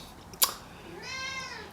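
A cat outdoors gives a single clear meow, fairly faint and close, after a brief sharp knock.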